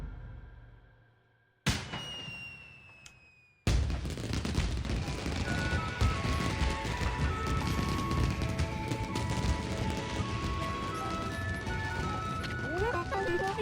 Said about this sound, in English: They're great fireworks,